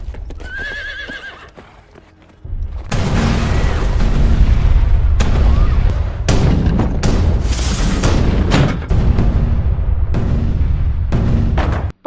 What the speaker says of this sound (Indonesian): Ratusan meriam ditembakkan untuk menghancurkan benteng dan meluluhlantahkan seluruh bangunan yang berada di dalamnya